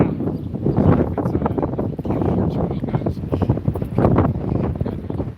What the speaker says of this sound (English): Wow, it got really windy right here.